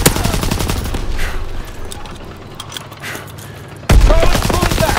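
Sustained gunfire in a Call of Duty WWII battle, dense bursts of shots rattling throughout with a loud burst near the end, under shouted in-game voices.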